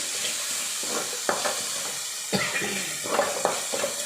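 Ivy gourd (kovakka) sizzles in an oiled frying pan as a spatula stirs it, sending out a few clattering scrapes over a continuous hiss of frying.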